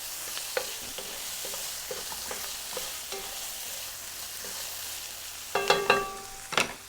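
Onions browning and sizzling in a pan, a steady fry hiss with light stirring clicks and utensil scrapes, then a couple of louder clinks near the end.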